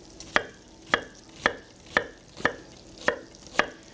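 Knife chopping an onion on a cutting board, seven crisp evenly spaced thuds about half a second apart, close and clear with no talking.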